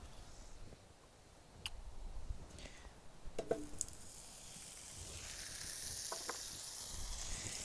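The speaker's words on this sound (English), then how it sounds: "So I'm going to go ahead and get my potatoes in my skillet here. Went ahead and added some oil." Potatoes fry in oil in an iron skillet on an outdoor park grill over wood coals, a soft continuous sizzle and hiss broken by a few faint clicks and scrapes, with no talking.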